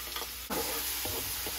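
Carrots drop into hot oil for shallow frying in a home kitchen, a sharp splash followed by a steady sizzle and a few soft scraping stirs, close and alone without talk.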